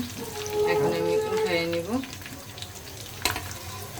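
A roast fries in hot oil in a pan, giving a low steady sizzle beneath a person speaking briefly, followed by a sharp clatter near the end.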